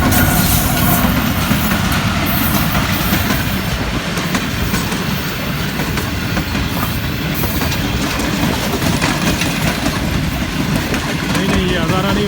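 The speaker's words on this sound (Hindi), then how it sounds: "एक और गाड़ी आ रहा है, ये कराची की साइड से आ रहा है" A passenger train from the Karachi direction rolls into Tando Adam railway station in Pakistan, its steady rumble and clickety-clack of wheels loud and continuous throughout, with people talking faintly underneath.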